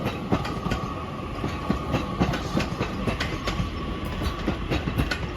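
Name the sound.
Northern train service leaving Crewe for Manchester Piccadilly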